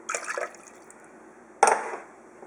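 Lemon juice is poured into an Ankarsrum Assistent mixer bowl in two short splashing bursts, close and fairly clear with quiet gaps between.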